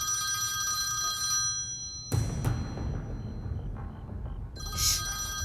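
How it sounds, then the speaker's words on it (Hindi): A telephone rings in a Turkish drama scene, a steady electronic bell tone that cuts off midway, followed by movement and a brief clatter before the ring starts again at the end. "जब फोन बजता है तो उठाया जाता है।"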